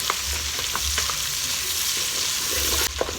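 White and red onions hit hot bacon and calabresa sausage fat and sizzle loudly, a steady close frying hiss broken by the scrape of stirring, with no voices.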